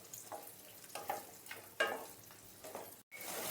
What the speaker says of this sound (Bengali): পেঁয়াজ ভাজার সময় খেয়াল রাখতে হবে লাল লাল যেন না হয়ে যায়, অল্প করে একটু ভেজে নিতে হবে